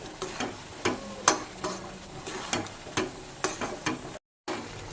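Amla chyawanprash cooked with jaggery is stirred in a pan over a medium flame, a spoon scraping in a steady run of soft rhythmic strokes with a faint sizzle, quiet and close.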